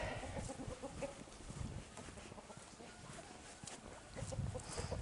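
A small hen clucks faintly among farm animals, soft intermittent calls over a low rustling yard background.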